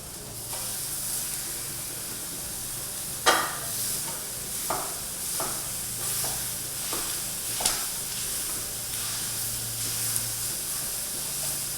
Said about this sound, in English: Now we're going to add our ground beef.